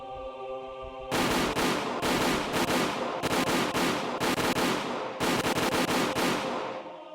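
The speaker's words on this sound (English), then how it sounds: "The sound of the gunshots echoed in the silence." Sustained automatic gunfire from soldiers in the Higurashi visual novel game, dense rapid bursts roaring loudly for several seconds with brief breaks, entering abruptly after a low musical tone.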